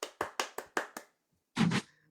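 A few sharp, separate hand claps from a small group at a Burns Night gathering, then a short pause and a brief closer burst of clapping.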